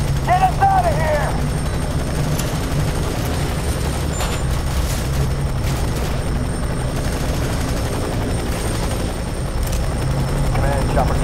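A helicopter in the video game F.E.A.R. 3 drones steadily with a loud, continuous rumbling roar throughout, and faint voice fragments appear briefly at the start and end.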